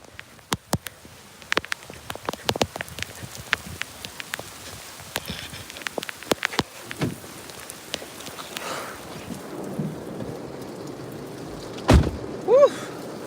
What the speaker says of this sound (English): Here come the rain.